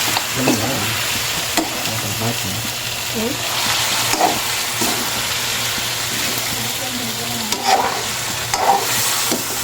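Boktit being stirred as it sautés in a pan with sauce, with a steady sizzle and repeated scraping stir strokes spread through the whole stretch, close and moderately loud.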